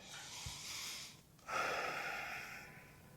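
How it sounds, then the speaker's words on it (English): A person draws a deep breath in through the nose, a breathy airy inhale that fades briefly and then surges back stronger for a second long intake, close and alone. "Now take a breath in."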